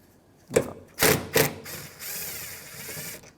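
A 10mm ratchet socket wrench works the bolts on the driver's side mirror of a 2007-2013 Mitsubishi Outlander, with three short, sharp bursts of ratcheting followed by a steadier stretch of clicking, close and fairly loud.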